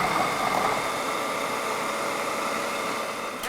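A Vitamix food processor thick-slicing zucchini gives a steady, continuous motor whir with a grinding buzz that holds at even loudness for a few seconds, then drops off slightly at the end.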